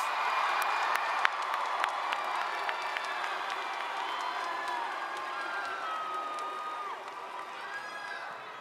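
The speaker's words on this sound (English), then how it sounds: "Let's give these graduates a great round of applause" Graduation ceremony audience applauds the graduates with sustained, dense clapping and some cheering and shouts, steady and somewhat distant for several seconds.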